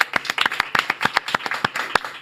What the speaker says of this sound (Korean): 김승현 편집장 박수로 모시겠습니다.